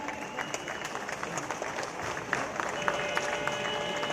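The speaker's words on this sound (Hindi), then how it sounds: "जोरदार तालियों के साथ" Applause from a crowd at an Indian Railways ceremony in Lalganj, Raebareli, as the Railway Minister flags off a new AC economy coach. Steady, dense clapping continues throughout with a faint tone and mixed crowd noise.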